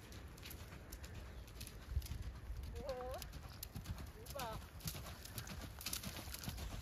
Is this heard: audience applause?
no